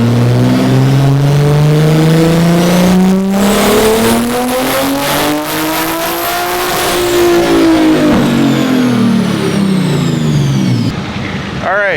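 A Toyota Supra MK5 engine on a dyno revs hard and climbs steadily in pitch, roaring loud and close, then drops off sharply at the end.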